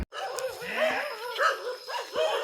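A dog barks loudly and repeatedly close by, a run of sharp barks and yips mixed with whining, with faint voices in the background.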